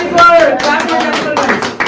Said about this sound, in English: Jennifer, clap for Jennifer